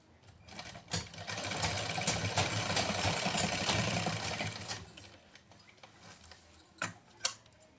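An electric sewing machine stitches a salwar, its steady motor whir and needle chatter running for about four seconds, with brief handling clicks and knocks before and after.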